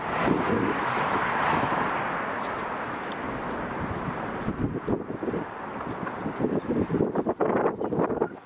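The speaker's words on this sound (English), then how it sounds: "It's actually really windy out here" Strong wind buffets the microphone at a harbor, a steady broadband roar with gusts, joined toward the end by irregular louder bumps and rustling; no one speaks.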